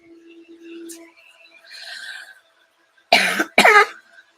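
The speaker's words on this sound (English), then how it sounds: "Now I'm going to start coughing." A person gives two sharp, loud coughs close by, after quieter throat noises and a soft hum.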